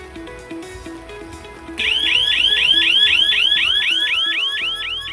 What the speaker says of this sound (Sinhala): මේ ඇවිල්ලා ගම් වතුර අනතුරු ඇඟවීමේ උපකරණයක්